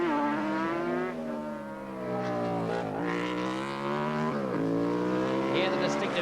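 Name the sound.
four-stroke racing motorcycle of Paul Pavlitic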